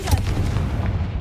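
A Confringo explosive spell goes off in Hogwarts Legacy, a deep booming blast with heavy low rumble that sustains through the moment, loud and close with no talk over it.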